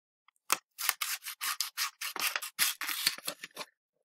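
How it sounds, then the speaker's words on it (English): Scissors snip through paper strips to cut out legs for a paper barnacle craft, a quick series of about a dozen close, crisp cuts in a steady rhythm, with no talking. "I'm going to take these strips and cut some legs out"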